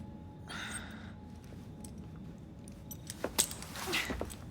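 Keys jangling as they are handed over in Assassin's Creed Syndicate: a quiet scene that ends in a short cluster of metallic jingles near the close, preceded by a faint breathy sound.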